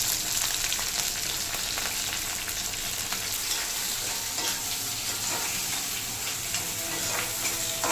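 Onions, cinnamon, cloves, fennel seeds and curry leaves frying in hot oil for a chicken gravy, making a continuous bright sizzle with occasional stirring scrapes, close and steady with no talking.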